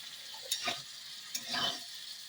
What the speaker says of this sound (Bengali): তো এবার আমি নাড়তে থাকবো, যাতে পোস্তর কাঁচা গন্ধটা চলে যায়